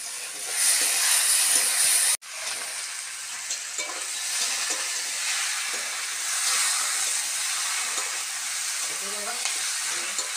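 Water is poured into a spice mix frying in oil in a pan, while cooking jackfruit with prawns. The pan gives a steady, close sizzle and hiss after a brief cut, continuing evenly with no talk.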